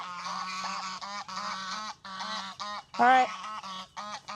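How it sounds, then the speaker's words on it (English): Farm geese honk repeatedly in loud, close, rhythmic bursts, with one sharper, louder honk near the end; a person speaks briefly over them. "I also saw some geese acting funny"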